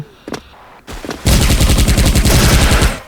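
Rapid automatic fire from an OWL UZI 2nd Gen submachine gun in the online shooter Special Force, a few scattered shots followed by a loud, steady burst of rounds lasting nearly two seconds.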